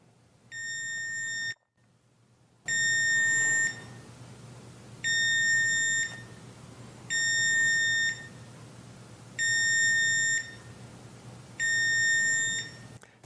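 A Kwikset Halo Touch smart lock rejects an unregistered fingerprint with six evenly spaced electronic beeps, each about a second long, over a low steady hum.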